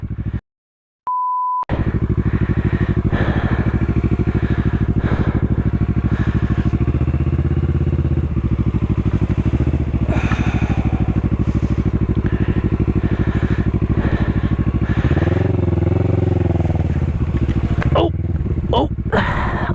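A motorcycle on Dunlop Mutant tires rides over dirt, its engine droning steadily and loudly close by, with wind buffeting and a person talking over it throughout.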